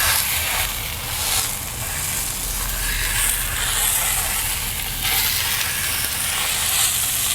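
A chuck eye steak's thin fat cap searing in a pan on close to high heat, giving a steady loud sizzle and hiss with no talking.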